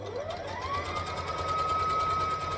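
A sewing machine runs steadily while stitching a no-pattern skirt, a continuous close mechanical whir with a rising whine settling into an even tone, with no talk over it.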